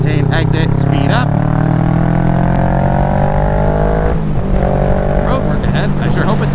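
A Kawasaki Ninja 650 motorcycle pulls out of a sharp turn on a twisty road, its engine rising loud and close with steady climbing pitch, wind noise throughout, then dipping briefly before revving again near the end.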